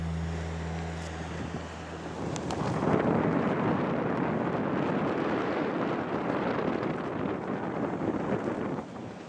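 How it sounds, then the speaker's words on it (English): Wind buffets a microphone while parasailing over water, starting quietly and swelling into a loud, steady rushing roar after a couple of seconds that holds to the end. "Yeah, the wind is picking up just a little bit."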